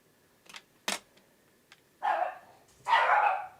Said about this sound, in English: The dogs are going to bark.